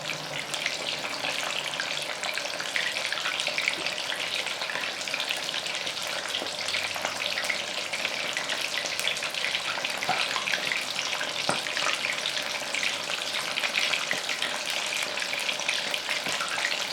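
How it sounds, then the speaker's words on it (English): Shrimp fry in hot oil for bang bang shrimp, giving a steady, dense sizzle and bubbling that runs evenly throughout, close and moderately loud with no talk. "Don't you like the sound of oil"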